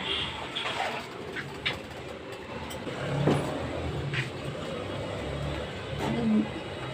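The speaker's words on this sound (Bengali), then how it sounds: "কবুতরের যে বাচ্চাটা হয়েছিল সেটা একটু বড় হয়েছে" A young pigeon gives soft, low coos a few times at close range, over a steady background rumble of passing road traffic.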